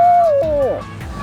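A person imitating an owl hoot with the mouth, producing a single clear, fairly loud hooting call that slides downward in pitch, close and alone.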